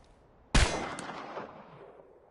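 A single sharp pistol shot at a target range in the game Chernobylite, close and loud, followed by a long decaying echo and a brief second crack, with no talking.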